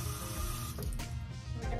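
Water runs steadily from a bathroom sink tap to rinse a toothbrush before brushing, a close, continuous splashing flow with no talk.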